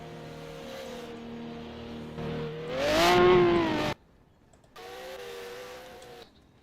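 A time-attack race car engine revs hard on a track at a Supercar Sunday event, climbing to a loud, rising scream before cutting off abruptly, then a steadier engine drone resumes a moment later.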